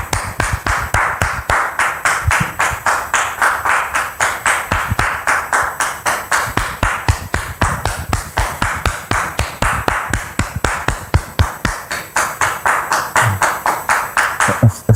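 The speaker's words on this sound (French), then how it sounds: "Je vous demande de la recevoir sous vos applaudissements," Audience at a gathering welcoming a guest with rhythmic, evenly paced clapping that continues steadily and fairly close throughout.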